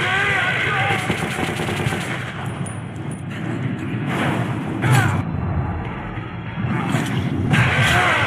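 Video game gunfire rattles in rapid, sustained machine-gun bursts with booms and whooshes, loud and dense, while voices shout over the shooting.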